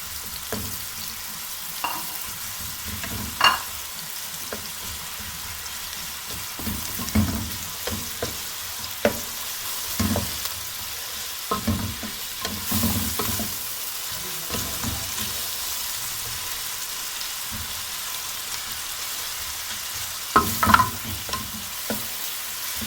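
Onions fry in oil in a karahi for a beef karahi dish, giving a steady soft sizzle broken by repeated scraping knocks of a spoon against the metal pan, close up and without talk.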